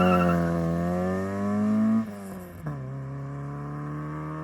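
A tuned Peugeot 106 XSi engine roars loudly close by, its pitch climbing under acceleration, then dropping sharply with a brief lift-off blip before settling into a steady drone.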